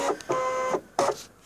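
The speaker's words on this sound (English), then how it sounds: "now I'm going to load this mat into the machine, hopefully" A ScanNCut cutting machine drawing in a cutting mat: close, steady mechanical whirring bursts with brief pauses between them, no voices.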